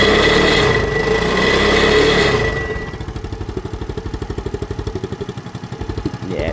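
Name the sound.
engine running on choke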